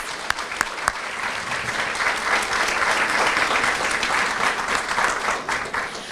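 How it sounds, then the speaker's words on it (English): Sustained audience applause filling a hall at a 20th anniversary celebration of a child and family development resource center, steady and dense for several seconds with a few sharper claps near the start. "can you please join me in a nice round of applause for all these folks?"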